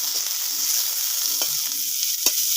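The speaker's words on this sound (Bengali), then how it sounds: "আর পেঁয়াজ কুচানো। ভালো করে একটু ভেজে নেব।" Chopped onion with five-spice seeds frying in a pan, a steady close sizzle broken by a few scraping stirs and one sharper clack near the end, with no talking.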